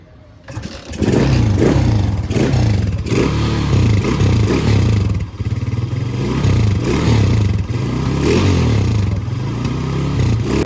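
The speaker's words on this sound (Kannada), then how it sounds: "ಸೊ ಒಂದು ಬಿಟ್ಟರೆ ಒಂದು ಸರಿ ಗಾಡಿ ಸೌಂಡ್ ಕೇಳಿಸ್ಕೊಂಡು ನೋಡೋಣ" A Suzuki Fiero motorcycle engine runs close and loud with a gruff, throbbing note, rising and falling through a few blips of the throttle for about ten seconds.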